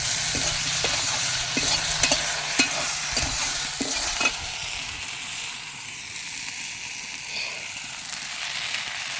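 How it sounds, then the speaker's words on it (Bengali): Crushed chalta (elephant apple) sizzles in hot oil, with a run of sharp stirring scrapes early on that give way to a softer, steady crackle, close-up and without talk. "চালটাগুলো থেঁতে নিয়েছি চালটা ছাড়িয়ে ভালো করে থেঁতে নিয়েছি এবার তেলে ভাজবো"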